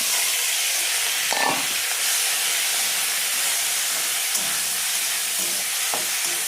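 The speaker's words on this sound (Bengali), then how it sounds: "মাছ দিয়ে দিয়েছি, মাছগুলো এবার ভাজা হবে।" Small fish frying in hot oil in a wok, a loud, continuous close hiss and sizzle with a few faint clicks and bumps.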